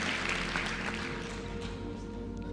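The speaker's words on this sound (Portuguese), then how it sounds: "Uma salva de palmas para ele." Audience applause breaks out at a motivational talk, a dense, steady wash of many hands clapping at moderate loudness, held evenly through the whole stretch over a low background hum.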